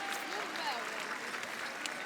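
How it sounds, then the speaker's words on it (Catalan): A crowd applauds at the Three Kings' arrival celebration in Sant Cugat del Vallès, a dense, steady wash of clapping from many people outdoors, with a voice talking over it. "Els hi fem un fort aplaudiment, a veure si s'animen"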